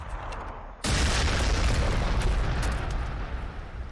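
Frag missile explosions in Warhammer 40,000: Sanctus Reach, a quiet lead-in broken by a sudden loud boom that swells into a thick, sustained rumble of blasts lasting several seconds, no voices.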